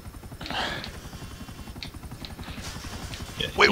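Steady rapid thumping of helicopter rotor blades in the video game GTA V Online, moderately quiet and continuous, with brief bursts of other sounds over it.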